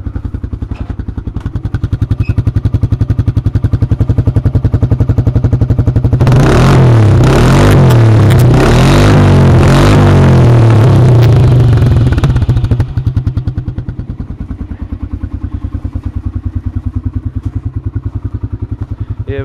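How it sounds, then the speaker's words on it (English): A 2007 Arctic Cat snowmobile engine, idling after a cold start, swells into a loud revving burst for several seconds and then drops back to a steady idle, heard alone. "I'm going to do a little rev."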